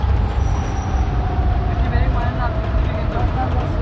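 A vehicle drives through the Karnaphuli river tunnel under the riverbed near Patenga, Chattogram. A steady, enclosed road roar with low engine rumble runs throughout, with faint tyre and passing-traffic swishes. A voice speaks over it.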